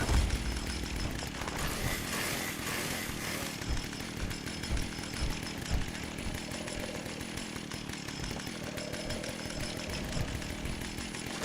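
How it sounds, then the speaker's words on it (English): A chainsaw in the game Fallout 76 runs in a continuous, loud buzzing drone with gritty, rough texture and no clear stopping point, heard alone without talk. "Oh no, my chainsaw broke."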